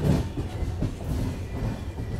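The Golconda Express rolling into Jangaon station, a low rumbling clatter of carriages and wheels heard from on board, steady and moderately loud with faint knocks, no voices.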